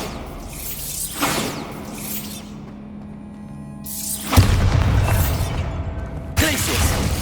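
Bombarda blasting spell in the Hogwarts Legacy video game, booming blasts with whooshing bursts and crackling debris, heard twice over a low hum and other game sounds.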